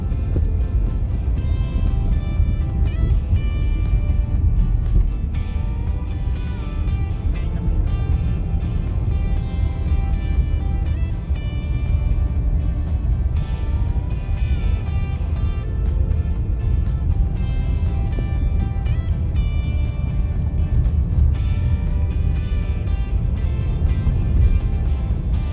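A car climbs and winds along a zigzag mountain road toward Baler in Aurora Province, its engine and road noise a steady, loud drone with no one speaking.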